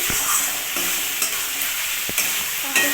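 Chopped tomatoes with turmeric and ground spice paste stirred in a sizzling pan, bright frying hiss with a few sharp spatula knocks against the pan, close and loud, no voices.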